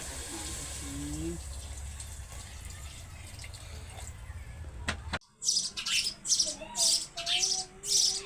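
Sparrows and sparrow chicks chirping in short bright bursts close by in a room, with a faint trickle of water earlier and quiet background.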